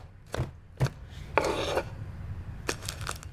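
Food being chopped on a board in the game Beyond: Two Souls, a handful of separate knife strikes with a scraping rub between them, close and fairly quiet over a low background hum.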